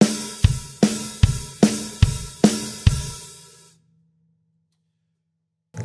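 A drum kit plays a rock groove of alternating kick and snare with eighth-note hi-hat on top, seven evenly spaced loud hits before it stops abruptly into silence.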